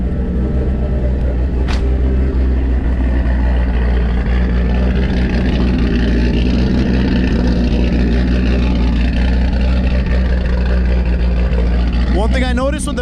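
A car engine idles after a new throttle body install, a loud, constant low rumble with a slightly uneven, loping pulse, heard up close with a brief click near the start and a rising whine at the end.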